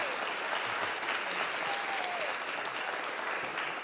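A steady wash of applause fills an evening talk event for Todd, the dense clapping of a sizable audience sustained evenly and moderately loud throughout, with no voices rising above it.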